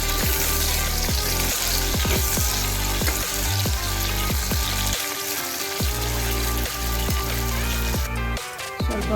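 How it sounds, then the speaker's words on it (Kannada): Finely chopped onions sizzle steadily in hot oil in a pan for a chicken kabab kushka, with repeated scraping and stirring strokes over a close, continuous frying hiss. "ಈಗ ನೋಡಿ ಆನಿಯನ್ ಇದೆಲ್ಲ ಫ್ರೈ ಆಗೋಗಿದೆ"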